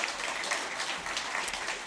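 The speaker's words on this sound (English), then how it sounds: "Give him a big round of applause." An audience applauds during a live country music radio show, Farm and Fun Time. It is a short, steady burst of clapping with no talk over it.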